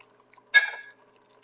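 A quarter cup of Worcestershire sauce poured into a pot of Brunswick stew, one short liquid splash lasting under half a second, close and otherwise quiet.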